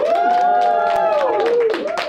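Comedy club audience in Bushwick whooping and clapping for comedian CJ during a competition vote, a loud sustained burst of cheers with wavering shouted woohoos over scattered claps.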